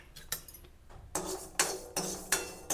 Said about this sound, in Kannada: ಇವಾಗ ಉದ್ದಿನಬೇಳೆ ಹಾಕ್ತೇನೆ ನೋಡಿರಿ.